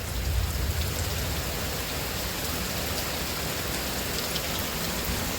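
Steady, dense hiss of rain pouring at night during a thunderstorm, continuous broadband wash with low rumbling energy at the start, no voices over it.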